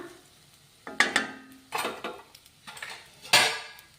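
Cooked sona masoori rice tipped into a pan for coconut rice, with a few clattering scrapes and knocks of a spoon against metal, each brief and close, separated by short quiet gaps.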